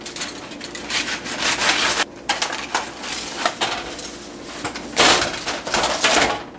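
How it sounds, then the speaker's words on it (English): The edges of a disposable cake pan holding a cookie cake are cut away, giving close, irregular bursts of crinkly scraping and rustling with brief pauses between cuts. "So I'm going to kind of cut away the edges."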